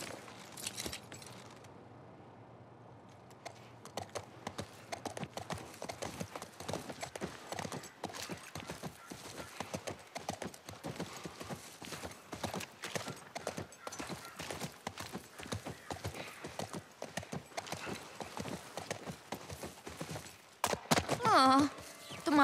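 In The Last of Us Part 1, horse hooves clip-clop in a steady walking rhythm for most of the stretch, with rustling gear and a brief louder burst near the end.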